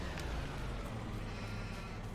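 Sheep bleat in the Farming Simulator 22 video game at an animal dealer's pen, a steady bed of livestock sound with faint repeated calls at moderate distance.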